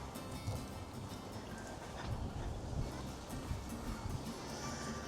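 Wind gusts through a garden in early June, a steady, faint, broadband rushing that swells slightly now and then without clear breaks.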